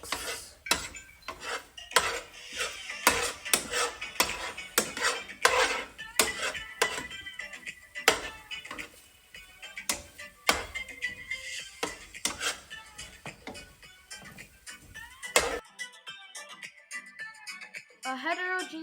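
Mapo tofu tossed with chili oil in a bowl: steady clinking and scraping of a utensil against the dish in quick repeated strokes, close up, ending in a quieter stretch where a voice talks.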